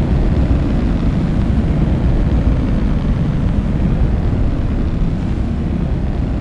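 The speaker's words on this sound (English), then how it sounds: "Stage 1 landing burn startup. Here we go, we've lit up all 10." Ten first-stage engines of a Niobium-1A rocket igniting for an experimental landing burn, giving a loud, steady, deep rumbling roar that holds without a break throughout, with no voices over it.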